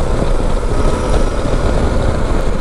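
Suzuki V-Strom 800 ridden on a highway at about 95–105 km/h, a steady loud engine and wind roar with a constant droning hum, as if from a worn bearing, and no speech.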